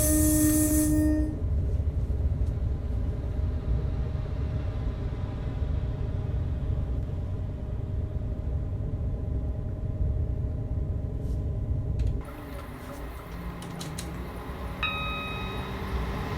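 A simulated train in Train Simulator 2020 runs the Midland Main Line from Nottingham to Leicester, giving a loud, steady rolling rumble with brief tonal notes, softening and shifting character near the end.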